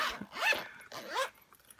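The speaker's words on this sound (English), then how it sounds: "it does have a zipper" The zipper on a Leuchtturm 1917 A5 softcover notebook is pulled in two quick, close zipping strokes, each a brief rising rasp, with a short gap between them.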